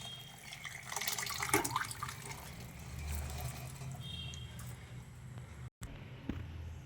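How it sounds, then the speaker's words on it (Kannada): Cooked avarekalu bean water being poured into a pressure cooker, a close continuous splashing pour with irregular glugs and a short break near the end. "ಬೇಯಿಸ್ಕೊಂಡಿದ್ದೀವಲ್ಲ ಕಾಳು ನೀರು ಇದು ಹಾಕೊಳ್ಳೋಣ ಕುಕ್ಕರ್ಗೆ"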